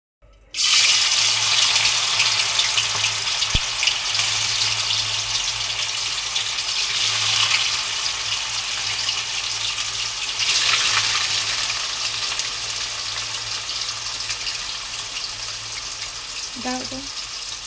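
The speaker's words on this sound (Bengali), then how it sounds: "এখন আমি গরম তেলের মধ্যে মাংসটাকে হালকা করে ফ্রাই করে নেব" Chicken pieces marinated in soy sauce and salt frying in hot oil, a loud, steady, close sizzle running continuously with slight surges in intensity, and a voice speaking briefly near the end.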